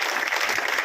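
Brief burst of steady clapping from a village crowd at a political gathering in Unchi Bhandor, Mahendragarh, filling the whole moment at even loudness with no voices on top.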